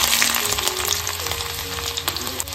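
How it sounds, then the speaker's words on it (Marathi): Garlic pieces crackle and sizzle loudly in hot oil in a kadhai wok for a tempering, a dense, busy frying sound with small pops and stirring scrapes and no talk. "कढईमध्ये इकडे तेल तापत ठेवलेलं आहे आणि फोडणीसाठी लसूण घालतोय"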